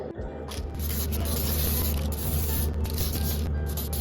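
Spray paint hisses from an aerosol can as a second coat goes onto an RC car hardbody, a close, loud, continuous spray with brief gaps where the nozzle is released.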